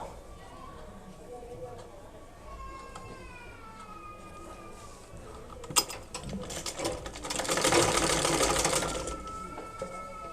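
A sewing machine stitches a khimar hijab, with light mechanical whirring early on, then a louder, denser run of rapid stitching near the end while a person speaks nearby.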